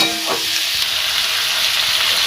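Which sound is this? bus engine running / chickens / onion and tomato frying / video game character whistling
onion and tomato frying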